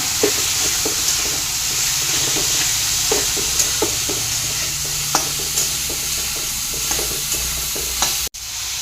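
Cauliflower florets stirred and cooked in a pan for potato-cauliflower paratha filling, with steady sizzling frying and repeated scraping stir strokes at an even rhythm, close and fairly loud with no talking.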